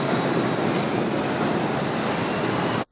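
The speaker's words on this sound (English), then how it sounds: "Here there's this permanent sound of water because you're by the river the entire time." Steady broadband rush of water flowing in the river running beneath the Wuppertal suspension railway, a constant near, loud wash with no voices, cutting off abruptly at the end.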